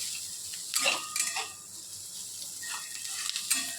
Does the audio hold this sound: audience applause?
no